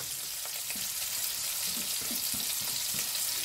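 Chopped onion fries in a pan with sausage, a continuous close hissing sizzle with soft stirring scrapes and bubbling pops running underneath, no voices.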